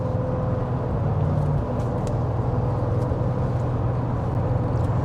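Steady low engine drone and road rumble from inside a moving car, continuous and close, with faint rattles and no talking.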